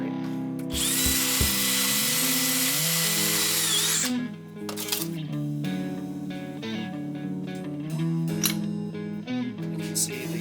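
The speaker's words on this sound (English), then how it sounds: "Probably really supposed to use this in a die grinder, but for this purpose, the drill works great." A power drill running continuously while cleaning out a track bar bushing bore, a steady whirring whine with pitch and load shifts as the tool works the metal, loud and close with no talk.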